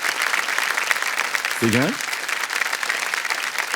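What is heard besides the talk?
audience applause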